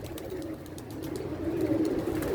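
A pigeon takes off with a quick run of wing flaps over soft cooing from other pigeons nearby, fairly faint and with no voices.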